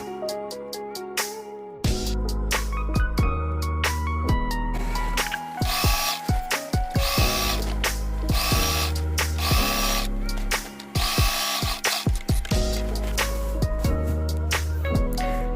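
A sewing machine stitches a folded double hem along the side of a fabric sink curtain, its loud, dense mechanical chatter running continuously with brief pauses and stops between bursts.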